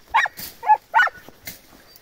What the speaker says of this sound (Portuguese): Tá aqui os cachorros, ó.